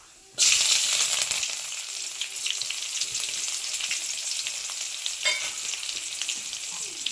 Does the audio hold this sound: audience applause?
no